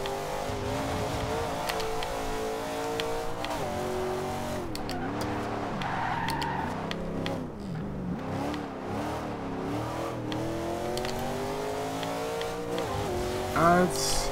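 A 2015 Chevrolet Camaro Z/28 drifts in the racing game Forza Horizon 2, its engine roaring and shifting pitch beneath continuous tire squeal, loud and sustained with revs rising and falling.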